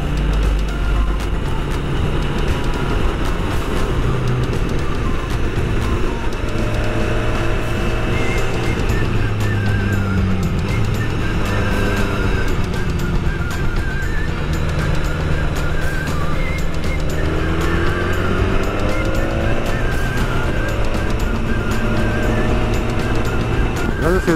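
A vehicle climbs a curvy hill road in the Eifel, its engine a steady droning rumble with gear and pitch changes, heard close and continuous throughout with a faint voice at times.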